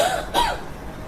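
A single short throat clearing, a rough burst lasting a fraction of a second, close and alone.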